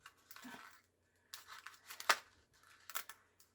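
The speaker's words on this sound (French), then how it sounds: "je vais plier pour faire décoller vraiment la partie" An infusible ink transfer sheet being bent and peeled off its backing for a mug project: several short crinkling, tearing bursts with a sharp snap near the middle, quiet and close, with no talk.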